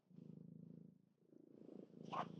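A house cat purrs close by in a soft, steady rhythmic rumble that swells and dips with each breath, with no talking over it.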